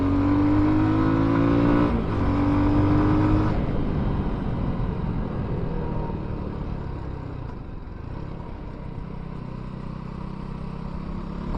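A Benelli Leoncino 250 motorcycle rides through curves close up, its engine revving in rising harmonic sweeps, dropping sharply as the throttle closes, then droning on at a lower, steadier pitch with a brief rise at the very end; no talking.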